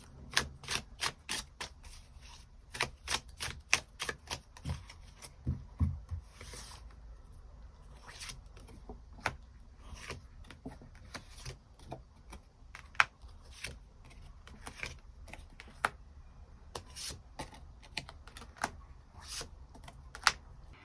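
Tarot cards are shuffled and drawn at close range, giving rapid clusters of crisp flicking snaps, then scattered sharp card taps and soft slides over a quiet background.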